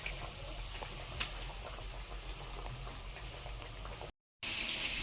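Breaded panee cutlets frying in hot oil, a steady dense sizzle and crackle that runs close and loud without pause, broken only by a brief dropout near the end.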